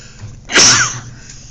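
A single sharp human sneeze bursts out abruptly in a quiet room, loud and brief, fading quickly into a low background hum.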